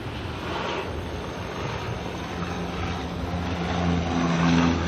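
An airliner takes off at Auckland Airport, a broad, steady jet roar that swells louder toward the end, with some wind buffeting on the microphone.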